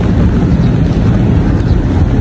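A downpour of heavy rain roars without letup around a person on foot, a thick, loud wash of noise with gusty wind rumble against the mic and nobody talking.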